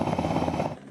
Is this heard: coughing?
no